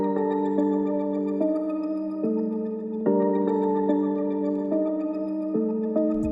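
A dark, glitchy melodic sample processed through a Portal plugin's Trails streak preset at low mix plays steady sustained tones that step between notes in a slow, shimmering sequence, with no voices.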